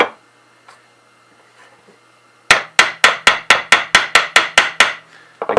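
Steady rapid hammer taps seat frets on a cigar box guitar neck: after a quiet stretch of faint workshop noise, about a dozen crisp, even knocks ring out close up, with no voices.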